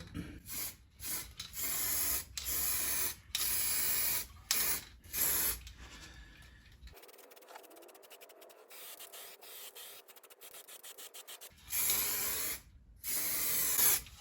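Spray gun applying a second coat of paint to a Jeep Patriot car, heard as repeated loud hissing bursts of several seconds each, with a longer quieter stretch of softer spraying in the middle.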